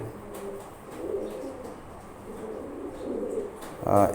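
Pigeons in a loft cooing in soft, low repeated phrases at close range, with a sharper bird call at the very end and no speech.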